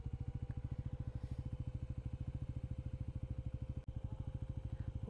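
A Bajaj NS400Z motorcycle engine idles steadily close by, a fast even thumping pulse that runs the whole time with one brief dip near the end and no talk over it.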